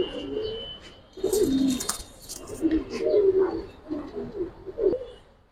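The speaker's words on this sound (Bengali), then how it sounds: "এই নটটা কিন্তু খুব ডাকে" Giribaz pigeons in a grass cage cooing repeatedly in low, rolling bursts across the clip, fairly close, with faint background chatter.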